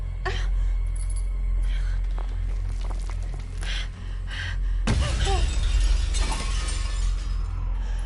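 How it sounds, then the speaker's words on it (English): Dishes smash on a floor with sharp, loud breaking crashes from close by, ringing glassy shards scattering after the impact, while voices talk and exclaim throughout. "they're throwing my dishes on the floor and breaking them at that."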